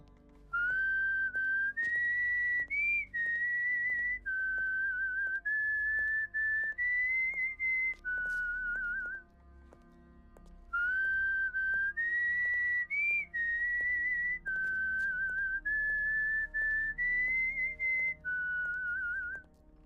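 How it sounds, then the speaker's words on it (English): Loud, clear whistling from a person signalling to others, a repeated melodic phrase of sustained tones played twice with a short pause between, alone without talk. "should whistle loud in case they show up, they can hear me."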